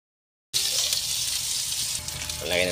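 Onion sizzles loudly after hitting hot chili oil in a pan, cooking for a Filipino ginataang palos dish; a sudden onset followed by a steady, dense crackle with a brief tonal scrape near the end.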